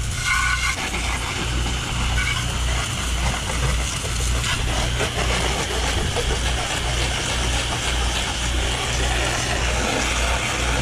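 A pressure washer blasts water through a wash gun beside a house near gas utility meters, a loud steady engine drone with broadband spray hiss running continuously throughout.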